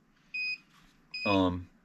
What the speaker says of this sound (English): radio gets low, it starts beeping.